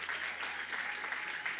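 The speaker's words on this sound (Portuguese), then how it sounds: "Você pode aplaudir a Jesus?" Church congregation applauding together after a call to clap for Jesus, a steady dense wash of many hands clapping at moderate loudness throughout, with no voices standing out.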